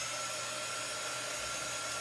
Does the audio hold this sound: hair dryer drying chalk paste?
yes